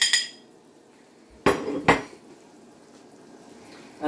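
A garlic powder, cayenne and chili powder spice blend tipped into a bowl: a quick clink at the start, then two sharp metallic taps of a spoon against the bowl, with quiet in between.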